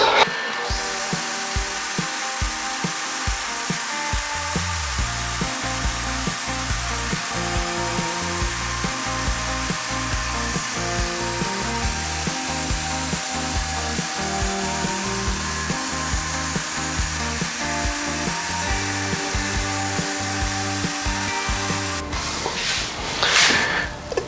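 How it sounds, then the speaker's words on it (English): A power tool cuts excess wood off an award board, a loud continuous whine running almost without break at close range before stopping abruptly near the end. "I can just cut off the excess, and I know it's going to be perfect all the way around."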